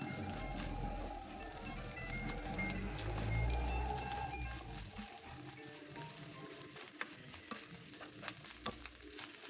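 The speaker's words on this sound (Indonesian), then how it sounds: "Sambil kita gongsreng ya" Shredded tuna stir-fries in a pan with garlic and chili, a steady close sizzle broken by soft scraping and clicking stir strokes that grow sparser toward the end, with no voices.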